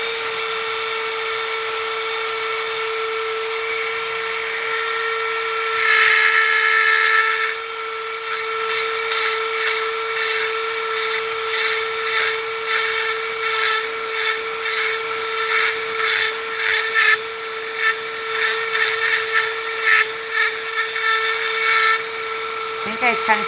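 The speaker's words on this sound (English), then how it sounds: "I don't know what's going on with my Dremel. Like, it sounds so funny." A Dremel rotary tool runs steadily throughout with a sustained high whine and an odd, uneven tone, its pitch wavering with bursts of grinding contact; it is fairly loud, close, and continues without break.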